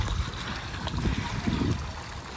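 Water from a hose pours steadily into a tub set out for sheep to drink, a continuous close splashing trickle with voices talking over it.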